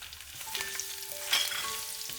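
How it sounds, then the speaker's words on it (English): Garlic frying in shallot oil for a Vietnamese rolled rice cake filling gives a steady close sizzle with a few faint tonal tones over it and a brief louder crackle midway. "Fry the garlic until slightly golden."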